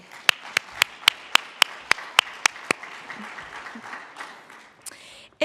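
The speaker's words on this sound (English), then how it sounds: "Give yourself a round of applause too." An audience at a storytelling talk breaks into applause, with a dense wash of many clapping hands and one louder, steady clapper close by beating about ten sharp, even claps, before the applause thins out.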